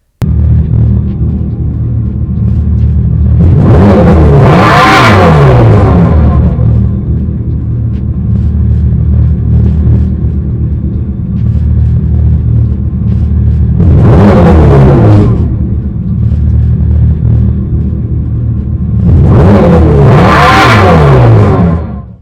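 The Dodge Charger Daytona SRT electric car puts out its synthetic exhaust note through an amplifier and tuning chamber at the rear: a loud, deep droning rumble with three rising revving swells, heard alone and close.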